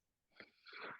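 A man sneezes close by: a faint intake puff, then a short broad burst of air ending in a sharp explosive snap.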